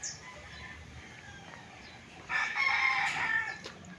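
A rooster crows loudly at a chicken coop on a rural property in Calauan, Laguna, and the call rises over a soft outdoor background and low clucking.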